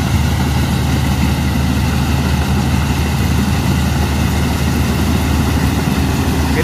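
The engine of a straw chopper cutter machine runs loud and close, a steady low droning hum that holds unchanged throughout, with no talking.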